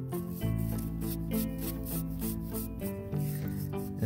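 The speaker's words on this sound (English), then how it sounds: "just kind of go over it and just smooth out the mortar" A tool rubs repeatedly over fresh mortar on a flagstone column, giving a close, steady scraping rhythm of short strokes over a low background hum, with no voices.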